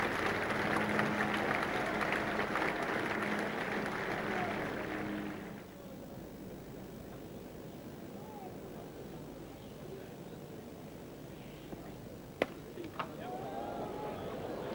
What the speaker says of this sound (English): no one in this Oval ground will deny him a full round of applause